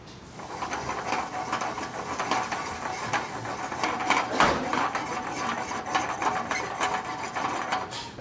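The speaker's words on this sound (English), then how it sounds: "I'm shaking this pan like that because I really want this to cook evenly." A pan of pasta puttanesca is shaken back and forth on a stovetop burner, giving a steady, close metallic rattle and scrape that runs unbroken throughout.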